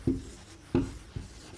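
Handwriting a Sanskrit leave-application letter: three short, scratchy strokes, close and quiet, with no voices.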